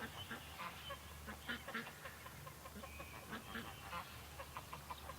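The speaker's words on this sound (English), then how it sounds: "the geese are heading back up" Geese honk repeatedly in a noisy, overlapping chorus, somewhat distant, under a steady background rumble.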